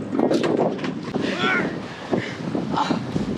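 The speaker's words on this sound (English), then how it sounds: "the wind was freshening and we could see the whitecaps already starting" Strong wind buffets the microphone aboard the sailing boat Brindabella at sea between Adelaide and Kangaroo Island as whitecaps build, a steady rushing roar with muffled voices underneath.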